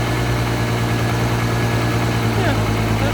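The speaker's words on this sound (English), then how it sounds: "the engine is working here" A Cupra Leon 1M with a turbocharged VR6 engine sits idling, a loud, steady low hum with constant vibration and a faint mechanical whine running through it.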